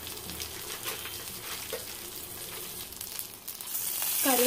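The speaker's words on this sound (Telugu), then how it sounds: "కరివేపాకు యాడ్ చేసుకున్నాం." Curry leaves and turmeric sizzle in hot oil for a Telugu tempering with dried red chillies, a steady broadband crackle at moderate level that swells louder and brighter toward the end, with no talking.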